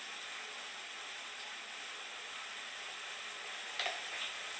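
Tomatoes and spices with salt sizzle and fry steadily in hot oil in a pan while cooking masoor, a close, continuous hiss with a brief clink of a utensil near the end.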